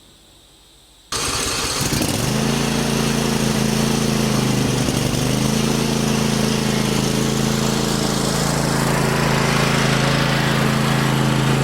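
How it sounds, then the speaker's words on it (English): An old Farmall M tractor engine driving a mower starts up after a moment of quiet, then runs steadily at a loud, close, droning idle-to-working pace while cutting grass along a roadside. "So I'm going to jump on the mower and cut some grass."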